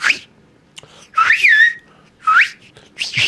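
A man whistles in imitation of a character's whistle: rising, sliding phrases with one long, bright glide, clear and close, with short gaps between phrases.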